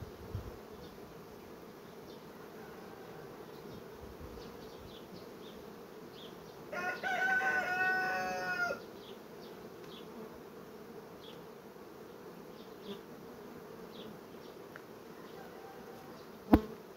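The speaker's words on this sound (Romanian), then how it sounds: "eu mut cu toate albinele la locul lor și închid" Honey bees buzz around an opened hive outdoors, a steady low hum throughout, with a louder, closer insect buzz swelling for about two seconds midway and a sharp knock near the end.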